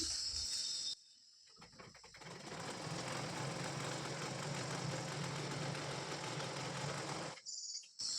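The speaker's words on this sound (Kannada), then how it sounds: "ನೋಡಿ ಈಗ ಸ್ಟಿಚ್ ಮಾಡ್ಕೊತಿದ್ದೀನಿ ನಾನು." A home sewing machine stitches old cloth into a storage bag, a steady mechanical whirring run lasting several seconds, framed by brief pauses and quieter handling at the start and end.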